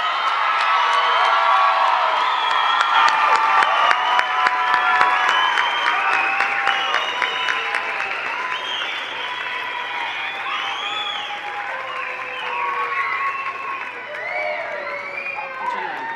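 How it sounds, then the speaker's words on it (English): A crowd at a nurse pinning ceremony for 2024 graduate nurses bursts into sustained applause with cheers and whoops, dense clapping that fades slightly over sixteen seconds, with scattered voices mixed in. "Can we give our graduates another round of applause?"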